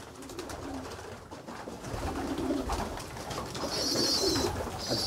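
Domestic pigeons coo in a loft, low throaty calls repeating several times over a steady background hum, fairly close and moderately loud, with no talk.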